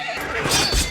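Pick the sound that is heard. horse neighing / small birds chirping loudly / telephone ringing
horse neighing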